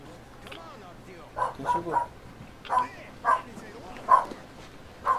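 In Metro Exodus a dog barks about six times in short, separate bursts at moderate distance, with someone talking briefly between the barks.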